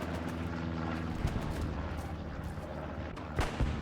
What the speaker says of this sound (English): That was a friendly shell.